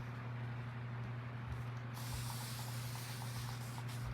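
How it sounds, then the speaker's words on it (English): After a quiet start, a soft hissing spray from a water spray bottle begins midway and continues to the end, faint and close. "spray it again."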